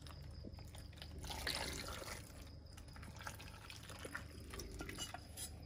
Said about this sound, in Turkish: Şimdi sosumuzu ne yapıyoruz? Dolmalarımızın üzerine boşaltıyoruz böyle.